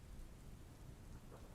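Steady rain pours from the sky after a long drought, a dense even hiss of drops on dry, hot ground with a low rumbling undertone, continuous and close throughout.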